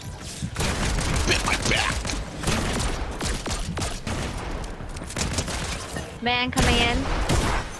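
Rapid video-game gunfire in a shooter bursts in dense volleys across most of the stretch, loud and close, with a player talking briefly over the shots.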